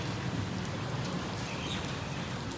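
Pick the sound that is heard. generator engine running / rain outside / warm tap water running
rain outside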